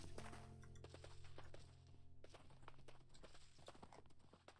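Horse hooves clip-clopping while riding in Minecraft, a quick run of light, sharp steps in steady rhythm over a low background hum, fairly faint and with no talk.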